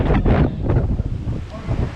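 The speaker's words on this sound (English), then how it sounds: "I think that's the ocean" Ocean surf heard from a cruise ship deck, a steady roaring wash mixed with heavy wind buffeting the microphone, loud and continuous.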